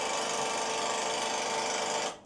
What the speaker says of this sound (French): Oui, c'est une tondeuse.